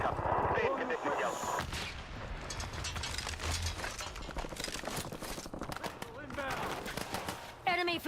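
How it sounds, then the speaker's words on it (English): An artillery bombardment strike in a video game booms and thuds repeatedly, heavy blasts mixed with gunfire crackle, while a person talks over the action throughout. "Hostile site bombardment incoming"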